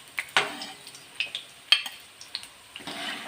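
Eggs fried in hot oil are lifted out of the pan, a soft sizzle underneath a series of sharp spoon-on-pan clinks and scrapes at irregular intervals, with no voices.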